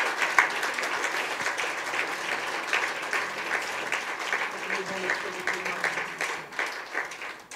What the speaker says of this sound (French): Est-ce qu'on peut applaudir bien fort Jésus?